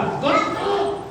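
During a children's puppet show, a voice imitates a dog with one short, drawn-out, bark-like yelp, spoken close and fairly loud.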